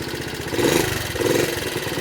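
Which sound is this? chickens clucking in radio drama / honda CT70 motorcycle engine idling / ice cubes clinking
honda CT70 motorcycle engine idling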